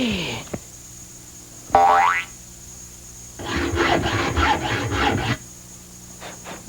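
File rasping against a piece of wood being shaped into a toothpick, heard as a couple of short scraping strokes and then a longer rough rubbing burst, set among quieter moments on a television set.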